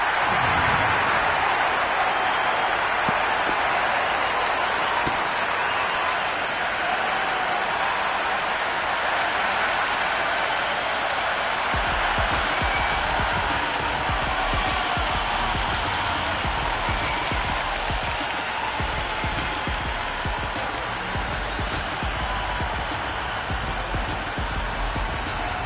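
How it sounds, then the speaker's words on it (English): Steady crowd roar with scattered clapping from a simulated stadium in a Cricket 26 video game on PS5, an IPL match between RCB and SRH, filling the whole stretch as a dense, continuous wash. "this crowd is already making it hard for me to be heard"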